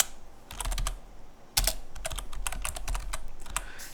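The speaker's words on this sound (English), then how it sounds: "So if I type in The Stranger," Quick bursts of keystrokes on a computer keyboard as a search is typed on a KDE Neon desktop, a fairly close, steady clatter in short runs with a brief pause partway through and no talk.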